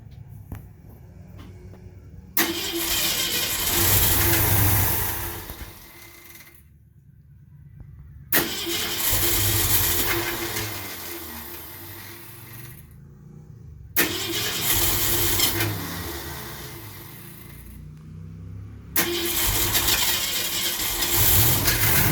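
A 1964 Mercury Comet Caliente engine, sitting unused for 27 years, cranks over in several long bursts of loud, rhythmic starter churning separated by short pauses, heard up close with no voices.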